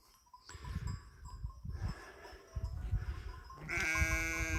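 Several sheep bleat, overlapping and close by, as a ram joins the flock, with a louder, sustained bleat near the end over a rustling farmyard background.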